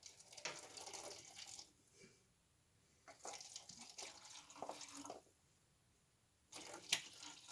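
Water poured from a bottle while testing purification, coming in several separate bursts of splashing and trickling with quiet gaps between them, close by and fairly soft.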